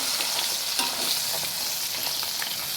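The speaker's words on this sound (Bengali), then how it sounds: "কাতলা মাছের মুড়োটা আমি কড়ার মধ্যে দিয়ে দিলাম। দিয়ে আমি লাল লাল করে ভাজবো।" A catla fish head frying in a kadai, giving a loud, dense, continuous sizzle that stays steady throughout with no voices.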